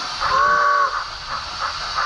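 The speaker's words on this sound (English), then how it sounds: "2 steam locos now coming past" Two model steam locomotives with digital sound pass together, a steady steam hiss beneath a brief whistle-like tone, with soft chuffing continuing afterward.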